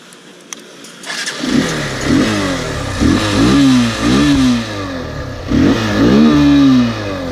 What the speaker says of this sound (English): this bike exhaust sounds somewhat different